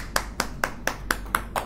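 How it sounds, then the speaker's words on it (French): Schoolchildren clap together in a quick, even rhythm, seven crisp, close claps in under two seconds. "Donc, il faut vous applaudir."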